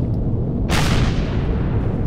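An ion cannon fires once in the space-building game Empyrion, a sudden bright burst over a dense, constant low rumble, then fading into a hissing tail.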